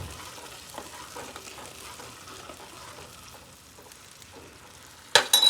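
Chili powder is stirred with a spoon into a pot of heating water for Maggi noodles. A continuous bubbling, sizzling churn runs steadily throughout, ending in a sharp metallic scrape or clank.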